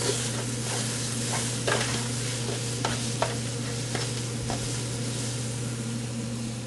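Smoked jalapenos sauté in a chili pot, a steady close sizzle of frying with repeated scraping and stirring strokes throughout and no voices.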